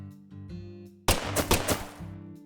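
Gunfire in the video game Deadly Premonition 2: a sudden burst of several sharp, rapid shots cuts in over soft background music, then fades as the music returns.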